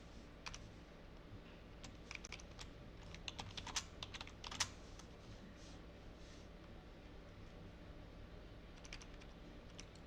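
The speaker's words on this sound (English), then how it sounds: "I'm typing really fast." Rapid keyboard typing clicks away steadily, with dense bursts of keystrokes and brief pauses, close and fairly quiet over a low background hum.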